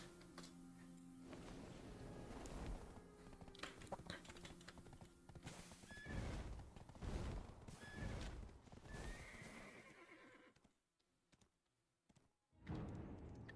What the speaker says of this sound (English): So you gave into the horse.